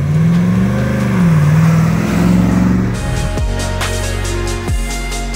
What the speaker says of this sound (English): Gonna Happen is powered by our GM LS3 engine with 6-speed automatic transmission.